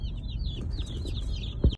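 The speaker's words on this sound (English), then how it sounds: "you should be able to hear the 50 chickens over here in the passenger seat next to me" Many high-pitched chirping peeps from about fifty young chickens inside a vehicle, steady and overlapping, with a brief low thump near the end.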